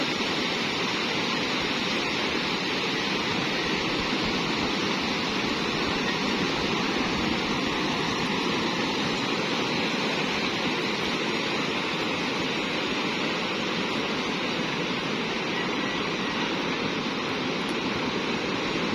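Sea waves crashing and surging in a continuous loud roar of churning water, with no clear breaks between swells and no voices over it.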